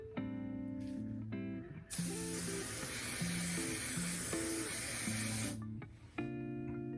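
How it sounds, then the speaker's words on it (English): Several long, steady hissing sprays from a hairspray aerosol can onto a hairline, close and loud, separated by brief gaps where a quiet tonal hum shows through. "remember to spray on your hairline, not on your hair"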